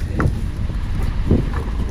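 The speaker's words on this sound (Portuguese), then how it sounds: "Esse vento tá atrapalhando demais." Strong gusting wind buffeting the microphone in bursts, a loud continuous rushing roar with short thumping gusts.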